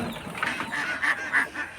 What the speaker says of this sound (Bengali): এই পাশে হচ্ছে হাঁসের খামার, হাঁস আছে অনেক হাঁস